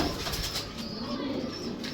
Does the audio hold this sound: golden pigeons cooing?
yes